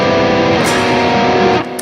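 An electric guitar plays sustained chords through heavy distortion, a dense, loud buzzing tone holding steady before cutting off near the end.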